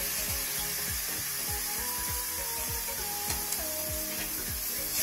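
Roasted eggplant for begun bharta stirred with fried spices in a pan, a steady run of scraping, rubbing strokes repeating about every half second, close and fairly loud, with no talking.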